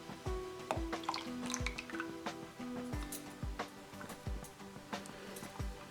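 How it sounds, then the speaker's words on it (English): Melted butter poured into thick buttermilk, soft wet drips and squishy splashes falling into a bowl in quick irregular bursts, quiet and close. "Now to this buttermilk, I'll add my melted butter."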